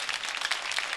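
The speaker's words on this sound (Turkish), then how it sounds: "Bir alkış alalım Yaşar abi" Studio audience applause on a Turkish TV show, a dense continuous patter of many hands at moderate loudness, brief and steady throughout.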